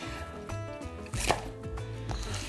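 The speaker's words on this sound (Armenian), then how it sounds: "Մանր ենք կտրատում, որպեսզի կարողանանք հեշտ խճողել։" A knife finely chops the filling for smoked chicken spring rolls on a board. A few close knocks come through with a louder cluster midway, under light background music.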